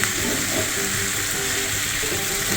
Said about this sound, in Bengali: এর মধ্যে রসুন বাটাটা দিয়ে দিচ্ছি